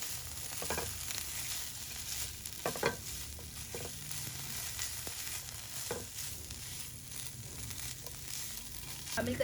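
Shredded boiled chicken tossed in oil in a pan, giving a soft continuous sizzle with scattered stirring scrapes and clacks, close and fairly quiet.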